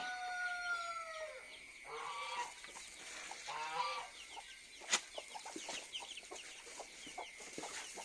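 Chickens and chicks clucking near a stall where an injured horse is kept: fairly faint, scattered clucks and calls with a crow-like cry early on and one sharp knock midway.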